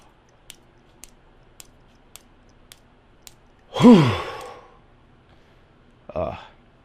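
A breathing exercise for a vocal warm-up: a long, audible inhale followed by a sharp, forceful diaphragm-driven exhale, then a second short push of breath, with faint clicks ticking steadily beforehand.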